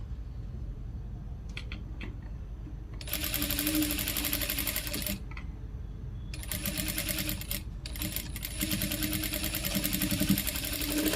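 A sewing machine stitches the folded hem of a round-neck blouse in two long, steady runs, with a short pause between them. The motor whirs loud and close over a quiet room hum, and no one speaks.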